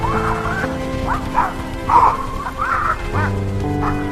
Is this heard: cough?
no